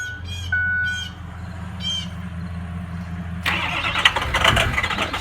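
A Ford 6.0L Power Stroke diesel with a couple of bad injectors turns over and catches, a low steady engine drone near the mic that builds into a louder, rougher running roar partway through, with faint higher chirps early on.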